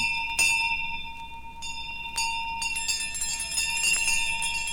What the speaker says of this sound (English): Every bell in the house was ringing.